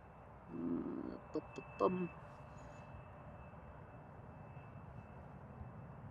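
A KLM Embraer 175 jet sits near the runway threshold at Amsterdam Schiphol Airport, its engines a faint, steady low rumble with a thin high whine, while a brief voice and a few clicks break in early on.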